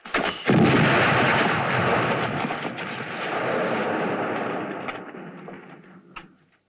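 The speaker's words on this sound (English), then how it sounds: "This whole mine's about to explode." A mine blows up in a western movie, a sudden heavy blast that roars and rumbles for several seconds before fading out.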